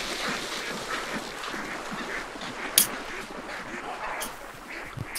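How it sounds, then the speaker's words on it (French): An infected duck in Hunt: Showdown quacks amid a dense, noisy game soundscape of rustling and ambient murk, with a couple of sharper bursts standing out briefly. "Canard infecté."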